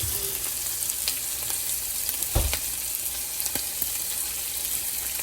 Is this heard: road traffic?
no